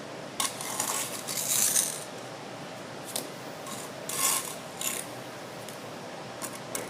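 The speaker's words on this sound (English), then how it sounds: "now get rid of all the excess mortar" A trowel scraping excess mortar off brickwork in a double lead, with several sharp metallic scrapes and clinks spaced irregularly, close and fairly quiet.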